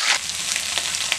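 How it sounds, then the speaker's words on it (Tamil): Brinjal (eggplant) pieces frying in sesame oil in a pan, a steady close hiss and sizzle with faint crackles, no voices. "இந்த மாதிரி கத்திரிக்காயை எண்ணெயிலெல்லாம் பொறிச்சு எடுத்துக்கிட்டோம்னா"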